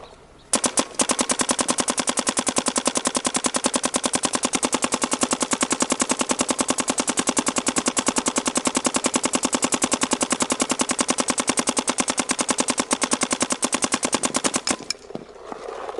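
Planet Eclipse CS1 paintball marker fires a long, unbroken rapid stream of sharp, evenly spaced shots for about fourteen seconds, loud and close, then stops.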